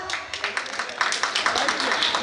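Audience members at a Tamil debate show clapping in a dense, continuous patter of close, overlapping hand claps, moderately loud, with a voice faintly present underneath.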